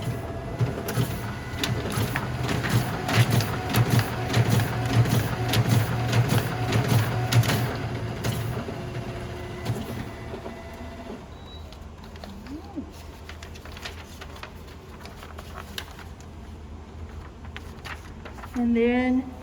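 A Risograph printer runs a second-layer print job, giving a loud, steady mechanical whirring and rapid rhythmic clatter for about ten seconds. The machine then winds down to a quieter hum, with a brief burst of handling noise at the very end.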